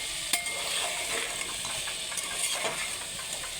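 Spices frying for dhaba-style ghugni get stirred through in a pan, a steady hiss and sizzle broken by a few sharp scrapes of a utensil, close and constant with no talking.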